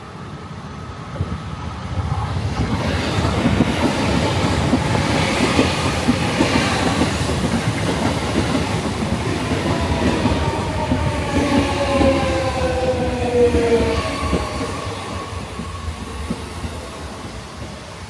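A train rumbles steadily past at Jokoji Station in Japan, with rattling wheels and a few thin metallic squeals partway through, fading slightly at the end.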